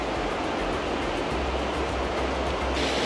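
Steady, full-bodied rush of water pouring over a weir beside a lock gate on the Kis Velence stretch, a dense continuous roar close by with no voices.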